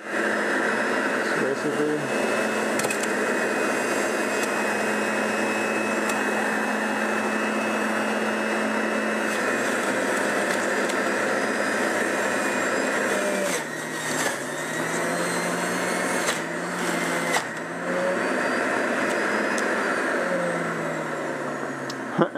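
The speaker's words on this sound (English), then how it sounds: "So I'm going to turn it on. This one has an adjustment for speed. I have it on 5." A Breville Juice Fountain 900-watt juicer runs steadily at speed 5 with a loud, constant motor whine and rushing hum, its pitch dipping briefly a few times as produce is pushed through, while a voice speaks over it.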